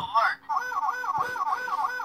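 A Transformers Armada Red Alert toy robot's electronic wailing siren cycles rapidly and steadily, loud and close, after a brief opening tone.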